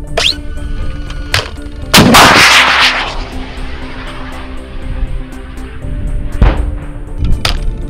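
9K111 Fagot anti-tank guided missile launched during Russian crew training, a sharp loud blast followed by a roaring rush that trails off, with other distant shots cracking before and after in open terrain.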